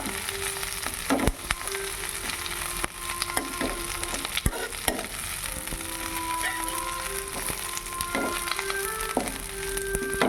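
Curry leaves frying in hot oil until crisp, giving a steady close sizzle with occasional crackles and a few sharp pops and scrapes of stirring.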